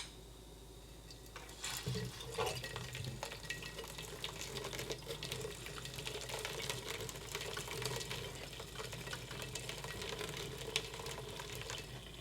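Boiling water pours steadily onto a glass wine bottle, making a continuous bubbling hiss that holds at an even, fairly quiet level with no talking.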